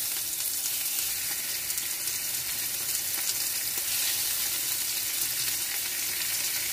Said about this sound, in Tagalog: So mainit na yung ating konti lang mantika. Lalagay na natin tinimplahan na beef.